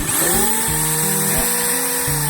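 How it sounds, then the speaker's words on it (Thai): Electric drill used for knife sharpening, running in loud whining bursts that switch on and off several times, with the pitch stepping up and down, heard close. "พอเราเปิดตัวนี้นะครับ สว่านนี่มันจะเปิดปิดได้นะ"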